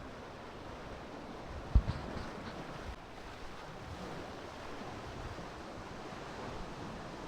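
Rough, stormy sea waves crash around a fishing boat in a steady roar of surf and wind noise, with one brief thump near the start and no voices.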